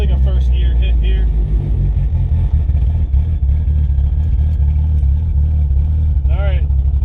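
Race car on Hoosier radial tires at a points race, with a loud, steady, close engine roar throughout and a brief rising rev near the end; the tone stays dense and constant with no clear launch burst.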